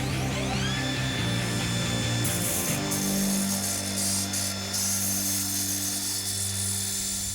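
A power tool fitted with an aluminum-cutting bit spins up with a rising whine, then grinds steadily into aluminum plate, loud and close, as the pitch settles under load.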